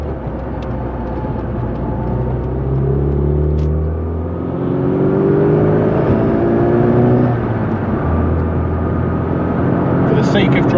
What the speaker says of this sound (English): For the sake of driving, a Mini is one of the best cars you can ever have.